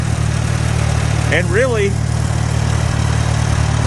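A Farmall A tractor pulling a Little Genius 2x16 plow chugs with a steady, even low drone close by, while someone talks briefly over the engine.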